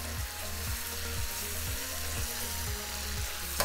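Beef stir-fries in a hot pan with spring onion, a loud continuous sizzle over a steady low hum with rhythmic scraping strokes of a utensil against the pan, close up, no one speaking.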